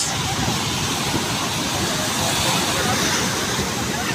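A strong river current rushes loudly and steadily, a dense unbroken roar of water right up close.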